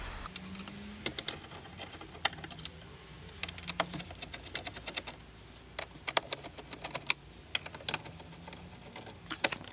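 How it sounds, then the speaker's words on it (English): Screws come out of the trim around a car's head unit, giving a string of sharp, light clicks and taps at irregular intervals, close up against a quiet background. "Alright, so we took off the screws."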